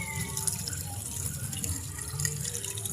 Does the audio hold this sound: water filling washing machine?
yes